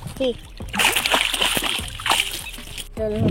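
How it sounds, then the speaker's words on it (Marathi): Water splashes onto a camera aboard a fishing boat, a close, loud splattering burst lasting a couple of seconds, with people talking before and after it. "कॅमेऱ्यावर पाणी उडालतं"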